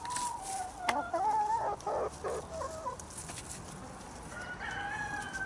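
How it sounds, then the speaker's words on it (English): Hens at an allotment cluck and call in a close, steady series, with a rooster-like crowing cry drawn out partway through, set against a quiet outdoor background without any talk. "I've just fed the hens"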